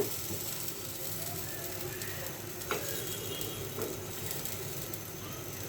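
Khola jali pitha batter fries in a covered pan over high heat, giving a steady, close sizzle with a few faint ticks and no talking.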